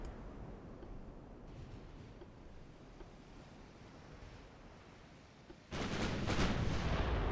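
Heavy 10.5-inch naval guns aboard the battleship Vittorio Veneto fire in Ultimate Admiral Dreadnoughts. Steady sea and wind ambience runs throughout until a sudden loud, roaring blast near the end, which then sustains as a rumbling salvo.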